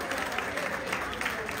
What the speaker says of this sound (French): Est-ce qu'on peut applaudir encore très fort pour Madame le ministre